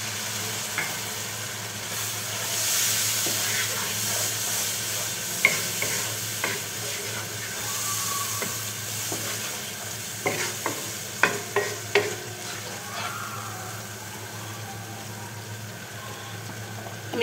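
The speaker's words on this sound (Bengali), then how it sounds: "হালকা একটু পানি দিয়ে আমি মশলাটা কষিয়ে নেব।" Spice paste of cumin and coriander powder with a splash of water sautés in a pan, a steady close hiss and sizzle punctuated by several scraping stirs of a spoon.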